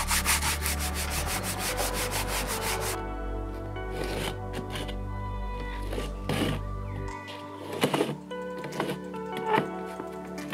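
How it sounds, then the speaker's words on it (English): A sharpened paint roller scrapes out the gaps between the planks of a 40-foot wooden boat, giving quiet rasping strokes in uneven bursts with a low hum fading out early. "So next I cleaned out the gaps between each plank. The tool I'm actually using here is a sharpened paint roller."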